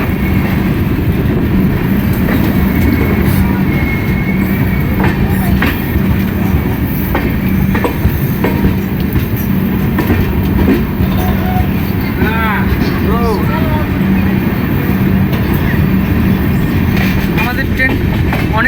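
A passenger train leaving Khurda Road Junction and running on, a steady loud rumble of wheels and carriage with occasional squeals and clicks, a voice talking over it at times.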